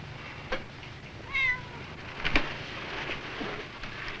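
Domestic kittens give a couple of short, fairly faint meows over a soft, hissy background, with a few brief rustling bumps between the cries; no purring stands out.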